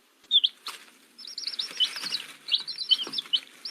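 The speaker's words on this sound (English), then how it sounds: "The bird is singing so sweetly." Baby birds in a nest give high, rapid chirps and tweets while the mother bird feeds them, a busy and fairly loud cluster of calls with no one speaking.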